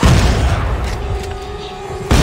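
A shotgun blast in Dead Space VR: one heavy, booming discharge opens, a low rumble and ringing tail carry through the middle, and a second loud blast hits right at the end.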